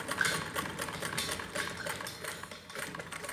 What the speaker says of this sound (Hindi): ऐसे 2 बार मशीन को उल्टा सीधा करके ऐसे सिलाई लगा लेते हैं